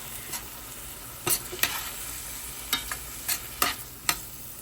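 Green chiles sizzle softly in a pan with a low, steady frying hiss, broken by several scraping clicks as a utensil stirs them, quiet and close with no voices.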